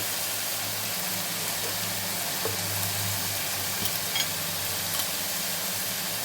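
Bottle gourd curry frying on high heat makes a dense, even hiss with a low steady hum beneath and a few faint stirring clicks, continuous throughout without voices.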